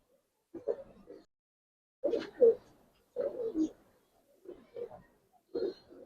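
Several Gribaz military khaki pigeons coo nearby in a series of soft, throaty bursts separated by short pauses, with no talking over them.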